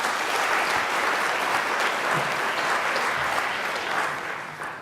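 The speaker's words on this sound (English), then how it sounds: "Can I actually get a big round of applause for our judging panel" Broad, dense applause from a large audience honoring a judging panel at a thesis competition event, a loud continuous wash of clapping that holds steady and then begins to fade at the end.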